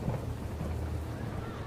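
Heavy rain pours steadily outside, with a low rumble of thunder beneath the constant wash of water.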